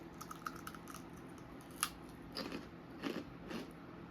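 Crunchy pork rinds being eaten up close, with a handful of sharp, crackly bites and crunches spread across a quiet background and no talking.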